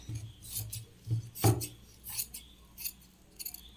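Scissors snip through blouse fabric during home stitching, giving several short, quiet cutting rasps spaced unevenly and close by, with no talk.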